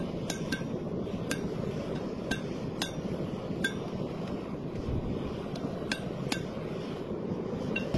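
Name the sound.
hammer striking metal on an anvil while forging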